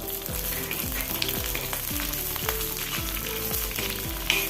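Mild green chilies, slit lengthwise, fry in hot oil for a curd and green chili curry, giving a constant, close crackling sizzle with faint tonal sounds running underneath.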